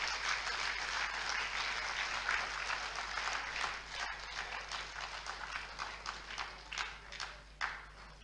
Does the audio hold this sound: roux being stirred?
no